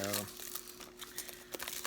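Crinkly wrapping paper rustles and crackles close up while a Star Wars: The Rise of Skywalker Blu-ray package is unwrapped, with soft crunches running through two seconds and someone talking at the start.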